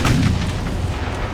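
Warship guns fire in the naval battle game Ultimate Admiral Dreadnoughts, a single deep heavy boom that rumbles and fades over about a second, loud and alone.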